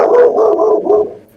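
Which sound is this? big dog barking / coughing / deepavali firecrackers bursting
big dog barking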